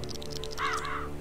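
A crow caws once in the Lego The Hobbit video game, a single hoarse call over a steady hum of game music and ambience.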